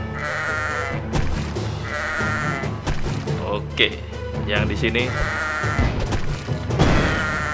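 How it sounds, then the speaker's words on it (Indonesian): Sheep bleat repeatedly in the Kingdom Rush tower-defence game, with game music and effects underneath and someone talking over them. "Kita membunuh semua domba."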